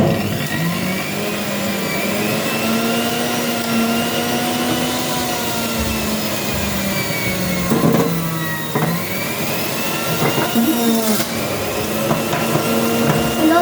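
An electric juicer machine grinds carrots into juice with a loud, steady motor whir whose pitch drifts and dips as the load changes, running alone without talk.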